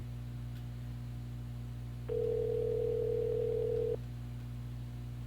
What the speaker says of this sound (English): Pick up the phone, Larry